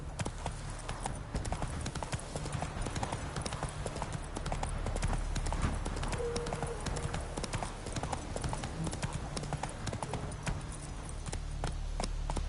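Hooves of the horse Roach clip-clop steadily in The Witcher 3: Wild Hunt, a continuous walking rhythm over low rumbling ambience, with a brief faint tonal sound midway.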